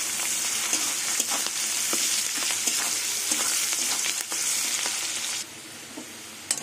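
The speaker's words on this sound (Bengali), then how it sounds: "পেঁয়াজটা লাল লাল করে ভেজে নেব।" Chopped onions frying in hot oil for a cabbage and prawn dish, a steady close sizzle with light crackles and occasional spatula stirs, slightly quieter toward the end.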